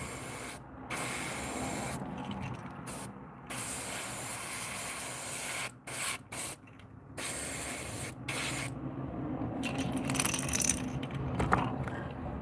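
An airbrush sprays paint in long steady hissing bursts broken by short pauses, applying white onto a realistic bluegill fish model; close and fairly quiet, with no talking.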